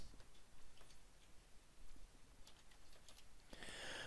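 Soft, irregular clicks of typing on a computer keyboard, faint and spaced out over background hiss, building to a denser run of keystrokes near the end.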